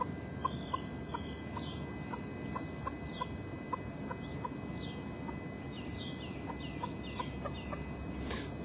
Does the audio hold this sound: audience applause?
no